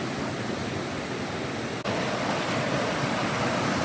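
Mountain creek running past a shady dispersed campsite near Ouray and Silverton, Colorado, giving a steady, loud broadband rush of flowing water with no break except one tiny dropout, no voices over it.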